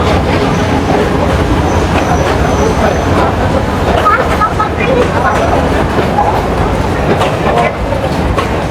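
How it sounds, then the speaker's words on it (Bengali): A train pulls into Bogura station with a continuous loud rumble and rail clatter, heard from the platform over busy crowd noise and nearby voices. "আমাদের ট্রেন চলে আসছে এখন বগুড়া স্টেশনে"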